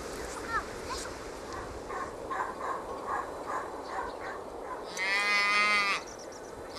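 A yak lows in a remote Tibetan mountain village, a drawn-out, moaning call near the end that rises above a steady bed of outdoor background noise.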